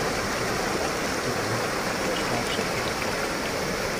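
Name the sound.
cold mountain spring water flowing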